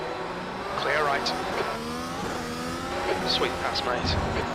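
A race car in the iRacing sim at Circuit of the Americas sweeps past at speed, engine pitch climbing and falling with brief tire squeal, while a spotter talks over the steady engine drone.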